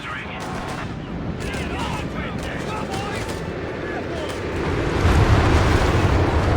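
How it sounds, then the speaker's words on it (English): Rumbling bombing run in Company of Heroes 3, a continuous heavy roar of distant explosions and artillery swelling louder toward the end, with faint speech over it. "that was an amazing bombing run, just like the last one"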